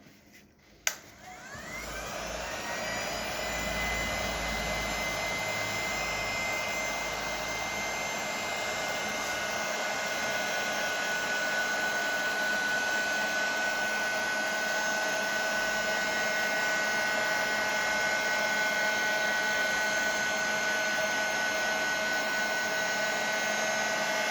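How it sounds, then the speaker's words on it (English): A heat gun runs steadily and loudly for the whole stretch, blowing hot air to dry a decoupage napkin layer on a slate coaster, with a sharp click as it starts and no talking over it. "then I'll use my heat gun to dry this off"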